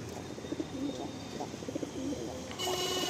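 Pigeons in a loft of an old white-headed strain, cooing softly and repeatedly in close range, with faint chirps and a brief rise of background noise near the end.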